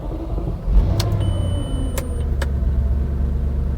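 Audi S4 with a 4.2 engine, freshly ECU-tuned with a Jackal Motorsports Stage 1 tune, fires up in a cold Edmonton winter: a steady low engine rumble settles into idle close by, with a few brief clicks over the drone.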